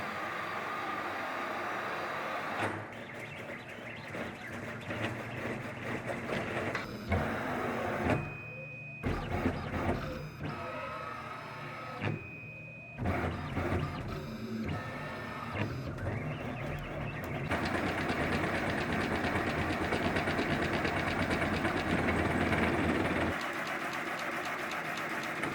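An AltMill CNC machine runs a quick program at high speed, its stepper motors whining and chattering through shifting rapid moves with brief pauses, loud and close with no talk.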